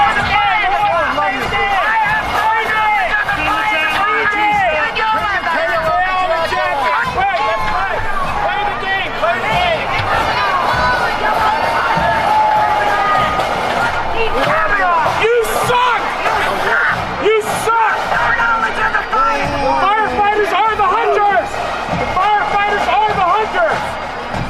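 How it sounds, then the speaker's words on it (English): A crowd at a St. Patrick's Day parade boos the commissioner, a sustained, loud wall of jeering voices and shouts rising and falling without pause for the whole stretch. "she got booed at a parade for St. Patrick's Day"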